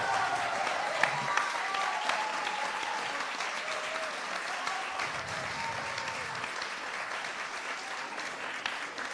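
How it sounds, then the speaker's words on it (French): A conference audience in Geneva breaks into sustained applause, a thick, even roar of many hands that holds steady throughout, at moderate volume with a few louder claps poking through. "un tonnerre d'applaudissements."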